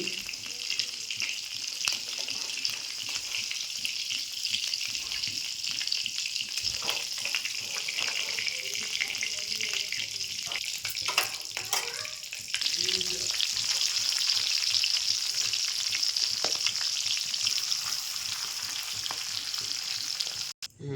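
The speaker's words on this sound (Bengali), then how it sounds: "একটা শুকনো লঙ্কা দিলাম, একটা তেজপাতাকে ছিঁড়ে দিলাম, আর এই যে 5 ফোড়ন দিলাম" Dry red chilli, a torn bay leaf and five-spice mix crackle in hot oil in a pan, a loud, steady sizzle that grows fuller and brighter partway through and stays close throughout.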